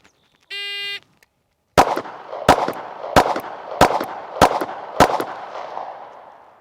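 Six sharp, loud 9mm pistol shots from a Springfield Hellcat fired at a steady rapid pace outdoors, each crack ringing out briefly, preceded by a short electronic shot-timer beep.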